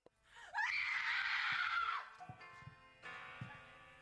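A rap track breaks into a loud, sustained scream from a vocalist, lasting about a second and a half, followed by sparse beat hits and a shorter, quieter vocal tail.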